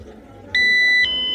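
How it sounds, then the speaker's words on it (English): Radiation detector alarm beeping as it is moved near a radiation source: a loud, steady electronic tone starts about halfway through, holds for half a second, then shifts and continues over low room noise. "I think you can get the alarm."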